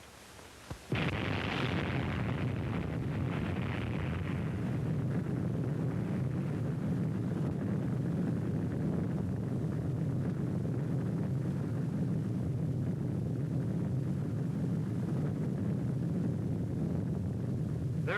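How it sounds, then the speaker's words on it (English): Atomic bomb test explosion from Operation Crossroads Shot Able, a sudden loud onset followed by a sustained, deep rumbling roar that continues steadily for many seconds with wind-like noise and no speech. "there's the ball of fire, growing and rising above the clouds and smoke of the explosion"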